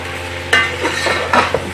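Whole garam masala frying in a pan for Lahori degi, with a few quick scrapes and clinks of a spoon over a close, steady sizzle and a low hum.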